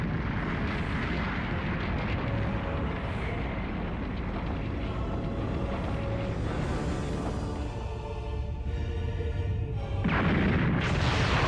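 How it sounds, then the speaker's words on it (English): Fireworks explode in the Dragon Ball Z Kakarot video game, a loud, continuous barrage of booms and crackling blasts with no pauses, swelling again near the end, heard with no talk. "Zarbon, Dodoria, are you seeing these brilliant fireworks?"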